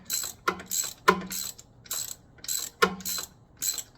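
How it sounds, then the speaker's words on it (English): A ratchet wrench loosens a spark plug on a Suzuki V-Strom motorcycle, giving about six close, crisp bursts of rapid clicking with short pauses between strokes and no voices. "And I'm on that spark plug now. Now I can get it loose."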